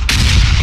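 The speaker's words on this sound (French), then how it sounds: "Ah la zone rouge c'est la zone où ça explose." A loud, close explosion in the red zone of the video game PUBG, a sudden heavy boom with a rumbling low tail lasting under a second.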